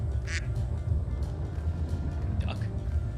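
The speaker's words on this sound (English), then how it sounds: "I just heard a light duck" A duck gives a few short, raspy quacks, one early and a pair near the end, heard over a low background rumble and murmuring voices.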